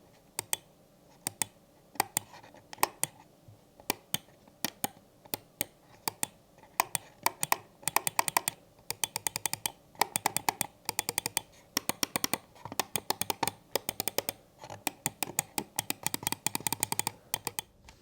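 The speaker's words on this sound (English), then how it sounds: "the first weird thing that I noticed with this mouse is that the clicks sound different depending on where you touch it" Logitech G Pro X Superlight 2 wireless gaming mouse clicking repeatedly, close and crisp, with irregular single and rapid clustered clicks in a quiet room and no talking.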